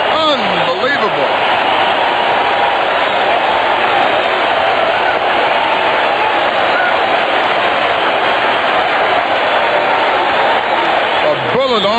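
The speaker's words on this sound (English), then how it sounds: "Listen to the crowd." Baseball stadium crowd roaring after a great defensive play in a Cardinals game, a dense sustained roar heard over radio, filling the whole stretch without letup.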